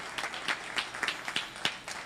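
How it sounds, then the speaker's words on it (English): A small panel-discussion audience claps in a loose, uneven rhythm for a couple of seconds, fairly quiet and without voices. "Clap for him."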